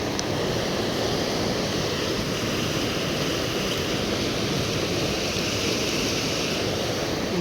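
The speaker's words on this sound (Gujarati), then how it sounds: "કેટલું પાણી આવી રહ્યું છે." Water rushing steadily through a canal outdoors, a dense, continuous roar like surf with a little wind buffeting the microphone, unbroken for the whole stretch.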